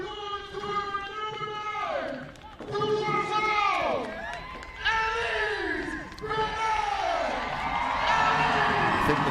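Stadium crowd at a women's soccer match between Montreal Roses FC and Vancouver Rise FC roars after a goal, loud repeated swells of cheering and whooping voices carrying through the clip.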